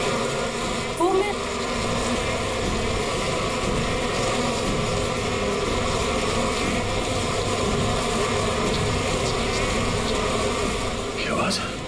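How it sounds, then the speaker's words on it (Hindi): Steady, dense buzzing of many bees fills the whole stretch, loud and continuous, with a few brief voices faintly beneath it. "किसी ने मधुमक्खी को छेड़ दिया क्या?"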